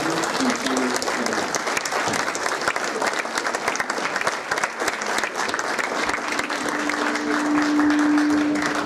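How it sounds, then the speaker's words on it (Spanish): Audience applause welcoming a speaker at a talk held at a hacienda, sustained crowd clapping for several seconds, fairly full and continuous, with a faint steady tone emerging near the end. "Les pido de favor que recibamos con un fuerte aplauso"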